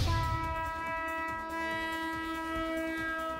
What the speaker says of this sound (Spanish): Luego de 18 años sonaron nuevamente las bocinas del tren en Puerto Berrío.